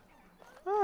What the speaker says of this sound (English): Λες να μπορώ να σκοτώσω chicken.